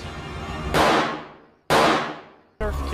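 Gunshots in a film scene where a robber shoots two people: three sharp loud blasts, each decaying over about a second, with no talk.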